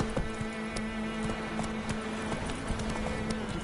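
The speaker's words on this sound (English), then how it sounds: "Run, Roach." Hooves of a horse in The Witcher 3 video game clip-clop at a steady gallop against a constant low game-world hum, with no talk over it.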